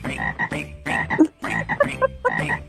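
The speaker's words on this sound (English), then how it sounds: "That is quite good frogs." Several frogs croaking in short, bursty calls repeated in quick rhythm, fairly close and loud, with no talking.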